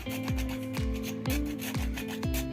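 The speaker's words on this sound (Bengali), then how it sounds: "একটু জায়ফল গ্রেট করে দিয়ে দেবো" Whole nutmeg is grated over a pot of yakhni chicken biryani, with rhythmic rasping strokes about twice a second, close and fairly quiet over a steady tonal hum.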